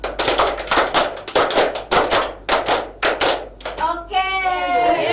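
A class in a micro-teaching lesson claps a counted rhythmic pattern, several sharp group claps in quick clusters with short pauses between, ending as voices break into chatter and laughter.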